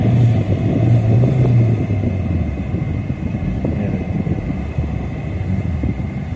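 A car engine idles steadily after being jump-started from a dead battery, a continuous low rumble close by with no talking.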